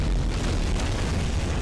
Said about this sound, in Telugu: అది కూడా పేల్చాడు